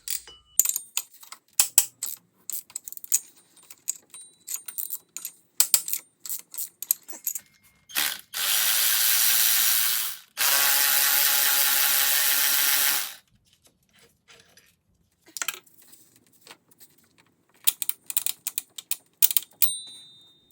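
Ratchet and socket working on a 14 mm bolt of a Lexus 2JZ AC compressor: clusters of sharp close clicks, two sustained power-tool-like whirs in the middle, then more scattered clicking.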